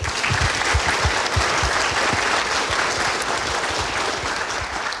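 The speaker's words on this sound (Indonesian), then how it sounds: "kita berikan tepuk tangan dulu" Studio audience at a televised political talk show on the 2024 election claps in a loud, dense burst that holds steady for several seconds without talk.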